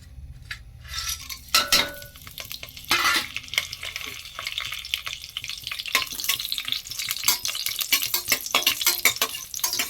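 Cashews frying in hot oil in a pan for a vegetable biryani, stirred with a metal spoon that clinks and scrapes against the pan in an uneven rhythm over a steady sizzle, close and fairly loud, with no talking.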